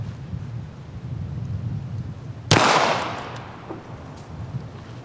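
A single loud 9mm pistol shot fired through drywall at an indoor range test, a sharp close crack with a long decaying tail, heard alone over quiet background.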